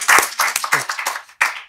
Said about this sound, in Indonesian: Tepuk tangan kayak buat Pak Haji.